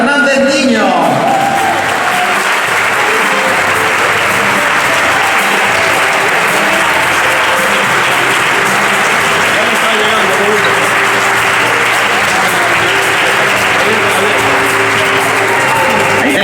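Loud, dense applause from the audience at a regional swimming federation awards gala, continuous and even for the whole stretch, with faint voices mixed underneath.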